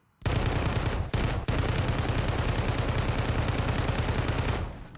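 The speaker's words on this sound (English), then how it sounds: "look when it shoots bullets" Sustained automatic fire from the Infinite Cosmos blueprint gun in MW3 Warzone, a loud rapid stream of shots with one brief break near the start, then a steady burst that tails off, no voices.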